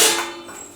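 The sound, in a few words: cupcake trays clattering as they are taken out of the cupboard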